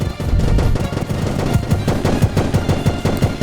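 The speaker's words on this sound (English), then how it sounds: "That laser turret is doing its damnedest to break this thing apart" Rapid bursts of laser turret fire from a battleship in a space combat game, loud and continuous, with sharp repeated shots forming a fast staccato rhythm that grows more distinct toward the end.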